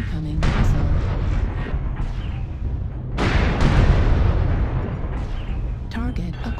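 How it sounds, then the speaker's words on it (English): Incoming missiles burst in MechWarrior Online, a dense roll of heavy booming explosions and rumbling impacts that swell and overlap across the battle, loud and close, with a game announcer's voice speaking over them. "Warning, incoming missile."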